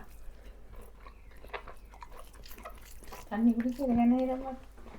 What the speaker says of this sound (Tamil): எலும்பு கடிக்க சுகம் தானே